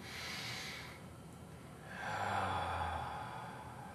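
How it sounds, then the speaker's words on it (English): Two slow, deep breaths during a neck stretch: a long airy exhale first, then a fuller, louder breath after a short pause, close and quiet with no talking. "And then I breathe deeply."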